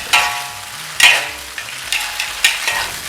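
Lamb cutlets pan-frying over medium heat hiss softly beneath several sharp bursts of spatter or utensil contact, coming roughly every half second and heard up close.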